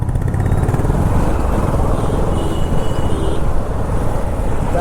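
KTM Duke 250 Gen3 motorcycle crawling through a festival-season traffic jam, a steady close engine drone mixed with dense surrounding road noise throughout, no pauses.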